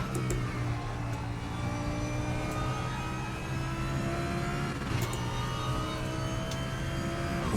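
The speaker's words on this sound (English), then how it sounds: "it sounds like it should be revving harder before it hits the red line" Race car engine revving in the RaceRoom racing game at Brands GP or Watkins Glen, a steady droning motor note with gear-change shifts, moderately loud and continuous with no talk.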